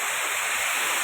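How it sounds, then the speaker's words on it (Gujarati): Water from a full dam overflowing its spillway, a steady, close, dense rush of white-noise-like roar with no break through the short stretch. "ઓવરફ્લો હો ભાઈ, ડેમ ફૂલ એકદમ."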